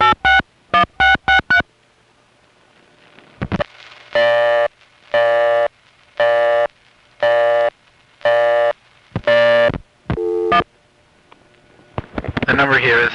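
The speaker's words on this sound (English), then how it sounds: "Here's a local busy, then a ringing number." Local busy signal on a 1974 Crossbar 5 telephone exchange in Van Nuys: a fast run of short repeated tones, then a slower series of longer evenly spaced ringback bursts, loud and clean.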